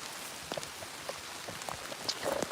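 Rain patters steadily on a truck outdoors, with scattered close drops tapping against the even wash of rainfall. No voices cut in.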